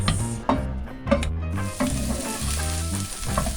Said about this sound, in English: some chopped onions in the oil. We will cook this for about 3 minutes until it turns soft